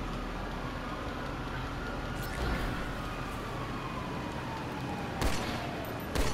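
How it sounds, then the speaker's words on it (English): BB gun firing in a video game: a few sharp, isolated shots spaced seconds apart, standing out over a steady hiss of background noise. "I believe this is like a BB gun or something"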